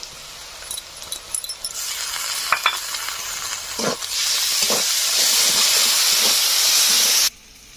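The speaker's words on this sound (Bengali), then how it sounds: "সামান্য পরিমাণে লবণ আর সামান্য পরিমাণে হলুদ দিয়ে মশলাটা ভালোভাবে ভেজে নেব।" Cumin-coriander masala paste fries with salt and turmeric for village-style Kadaknath chicken curry, light stirring scrapes at first, then a loud, broad hissing sizzle swells and holds close before stopping abruptly.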